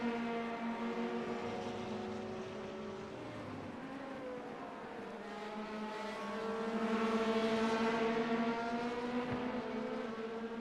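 LMP prototype race cars in a racing video game at Barcelona sweep past, sustained engine drones rising and falling in pitch as several cars come through, swelling louder toward the end.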